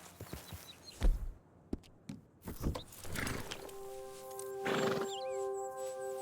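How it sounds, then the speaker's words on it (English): In the video game Red Dead Redemption 2, hooves clop unevenly, then a horse lets out a long, loud whinny with a shrill, quavering tail, with no voices present. "Horses."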